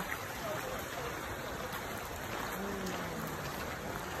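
Steady flowing water from a small stream running beside a forest path in Nikko National Park, a constant broadband rush with no pauses and no talking over it.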